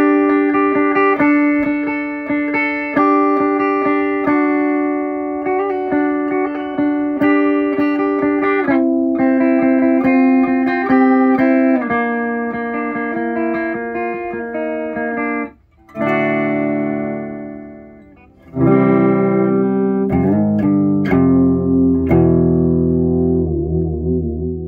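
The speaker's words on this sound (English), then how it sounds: "So this is the Boss SD-2 Dual Overdrive effects pedal." Electric guitar, an Ibanez RGR320SP, runs through a Boss SD-2 Dual Overdrive pedal into the clean channel of a Randall RX120RH amp: a long stretch of overdriven riffs and sustained chords, loud and close, with a brief drop before heavier ringing chords return.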